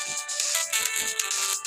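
A mobile phone ringtone sounds in a short, bright melodic pattern, moderately loud and close, with brief dips between phrases and no talking.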